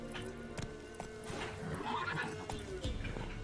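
Roach, the horse in The Witcher 3 video game, gallops with quick clip-clop hoofbeats and a neigh, close and fairly loud, with faint background voice.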